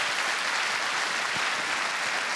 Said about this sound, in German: Komm, Applaus halt